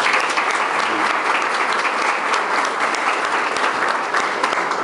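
An audience at a police command handover ceremony applauds the visiting mayors with steady, dense clapping that fills the room continuously, loud and even throughout with no pause.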